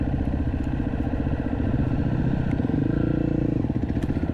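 A dual sport motorcycle rides a trail down toward a mountain lake, its engine a loud, steady, close drone with rattling clatter running continuously throughout, no talking.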